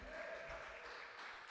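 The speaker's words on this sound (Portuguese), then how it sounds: "Vamos dar uma linda salva de palmas para o Senhor Jesus" Church congregation clapping in praise of Jesus, a steady dense wash of applause filling the room, fairly faint and continuous throughout.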